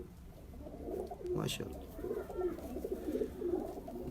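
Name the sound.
pigeons cooing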